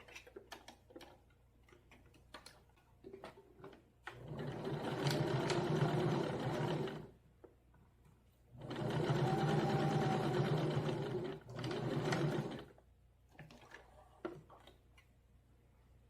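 A sewing machine stitches a bra in two sustained bursts of rapid, steady motor whirring, close and clear, separated by quiet stretches with faint ticking handling sounds.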